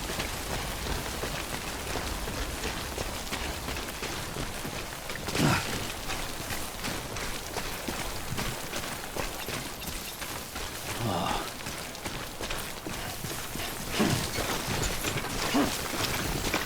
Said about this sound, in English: No more rain.